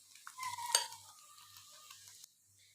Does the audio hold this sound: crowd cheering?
no